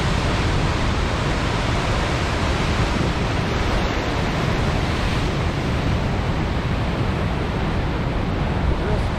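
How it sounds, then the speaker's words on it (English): Ocean waves surge and wash against coastal rocks edged with ice plant, a loud continuous roar of surf with heavy wind buffeting the microphone and no clear voices. "Weathering the waves."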